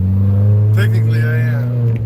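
A car fitted with a short shifter accelerating, its steady low engine drone running close and loud throughout, with a voice briefly speaking over it midway.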